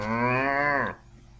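A Minecraft cow lets out a single loud, drawn-out moo, close and clear, that cuts off abruptly into quiet.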